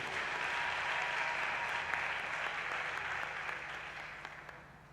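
A church congregation applauds during a Sunday worship service, a steady wash of many hands clapping that holds strong before gradually thinning and fading toward the end.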